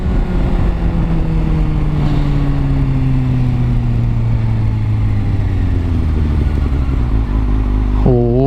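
A tuned Kawasaki ZX6R motorcycle engine drones steadily while riding, its pitch slowly sinking as the bike eases off, with a sudden rev rising near the end, loud and close over wind noise.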